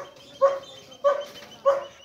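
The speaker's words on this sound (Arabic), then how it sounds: "الكلاب هم بيلعبوا كده" Playful dogs bark in three short, loud yips spaced about half a second apart, close by, with no talking over them.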